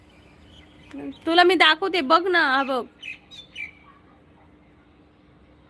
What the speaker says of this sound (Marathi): हा कोणता पक्षी ओरडतोय?